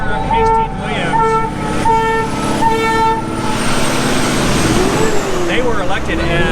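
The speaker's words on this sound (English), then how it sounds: "you hear the horns honking by" Vehicle horns honk repeatedly as traffic passes a street protest in Camden County, with sustained tonal blasts over steady crowd and traffic noise while people talk throughout.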